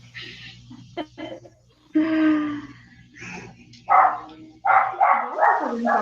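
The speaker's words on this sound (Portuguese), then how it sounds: "O cachorro do vizinho acordou." A neighbour's dog barks and yips in short, separate bursts, some whining and drawn out, heard from a little distance against a quiet indoor hum.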